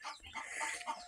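A brooding hen clucks softly in a coop on a poultry farm, a few quiet, close clucks in quick succession.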